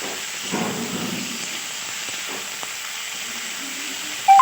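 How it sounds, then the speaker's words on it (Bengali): Pumpkin, potato and cauliflower frying together in oil with a little salt, giving a steady close hiss and sizzle with faint stirring clicks throughout, and no talking. "ফুলকপি এই তিনটে সবজি একসাথে পরিমাণ মতো অল্প নুন দিয়ে দেবো এবার খুব একটু লাল করে ভেজে নেব"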